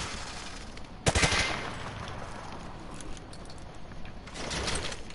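Gunfire penetrating light cover in the video game Call of Duty Modern Warfare 2: a sharp burst of rapid shots with several quick cracks, followed by fainter scattered pops and a rising rumble of fire toward the end.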